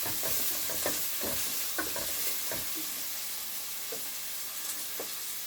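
Onions and mushrooms frying in a pan for a vegetable fish soup, with a steady broadband sizzle and repeated scraping stirs at irregular intervals, close and moderately loud, no talking.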